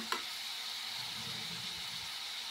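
Curry cooks gently in oil in a pan, a soft, even sizzle and hiss heard close but faint, with one small clink at the start.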